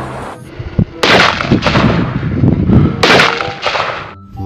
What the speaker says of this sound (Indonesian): tembak-tembakan koboi